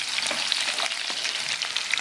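Steady crackling sizzle of mustard seeds popping in hot oil over a medium flame, close and continuous, with a few sharper pops.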